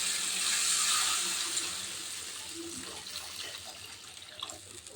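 Water poured from a pan-side vessel into a pan of fried spices for a Bengali aubergine dish, a steady rushing pour that is loudest at first and then settles into softer trickling.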